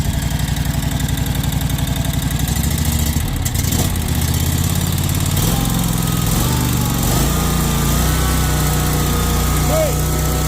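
A repaired lawn mower engine runs steadily after starting, with a loud close-up rhythmic putter that keeps up without a break.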